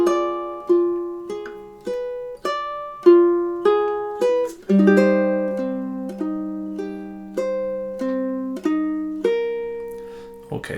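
Ukulele picking measures 5 and 6 of a love theme, a slow, even line of plucked single notes, each ringing and decaying, played close and alone at moderate volume.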